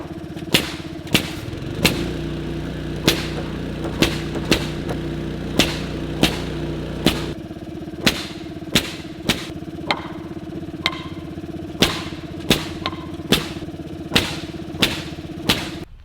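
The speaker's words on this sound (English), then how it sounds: "use pneumatic nail gun, especially the jumbo nailer, that thing is super loud" A pneumatic jumbo nail gun drives nails into post-frame wall framing, firing sharp, loud cracks at a fairly steady clip of about one per second, with a compressor or engine idling underneath for part of the time.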